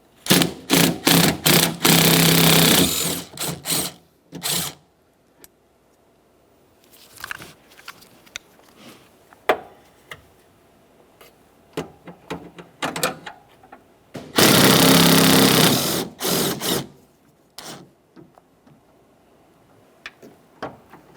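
Tool removing two 10mm mounting nuts from a rear exterior door handle on a 2004-2008 Ford F-150, loud ratcheting bursts in two main clusters separated by quieter clicks and handling noises.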